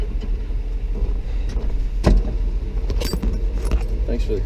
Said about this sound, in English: Thanks for the keys.